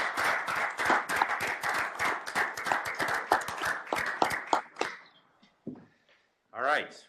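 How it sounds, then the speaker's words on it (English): A room gives a round of applause for panelists at a university board meeting, dense clapping that fades out after about five seconds before a voice resumes. "Let's give our panelists a round of applause."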